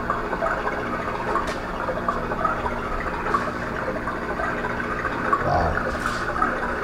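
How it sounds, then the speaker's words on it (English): Steady, rushing water from the waterfall at Graue Mill, a historic mill, running as an even broadband wash for the whole stretch with no voices. "Get the waterfalls right there."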